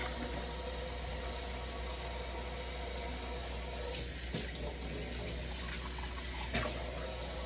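Tap water runs steadily into a kitchen sink while dishes and cups are washed, a continuous close splashing hiss with occasional faint clinks and knocks. No talking is heard.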